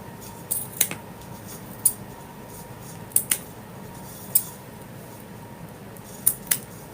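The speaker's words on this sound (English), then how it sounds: "not doing a ducktail, we're just going to cut at a slant" Sharp scissor snips slicing wreath ribbon at a slant for a winter owl wreath, about seven crisp cuts, some in quick pairs, spaced over a quiet background with no talk.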